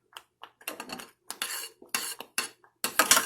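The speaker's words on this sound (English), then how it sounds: "I'm stirring the coconut cream. It's flipping and flopping over the place." A spoon scrapes and clinks against a pot while cornmeal porridge with coconut cream is stirred, a series of short, close, irregular strokes with brief gaps between them.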